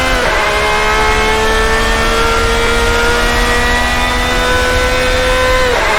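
A late-90s GT1 race car engine in a racing sim, at a sustained high-revving whine near the listener, pitch climbing steadily then dropping sharply near the end as it shifts or lifts.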